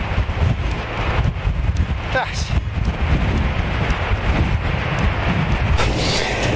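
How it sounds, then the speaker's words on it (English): Strong storm wind from Storm Eunice in Cornwall roars steadily across the microphone, a dense buffeting rush throughout with gusty surges and a bit of rustling. "It's so windy."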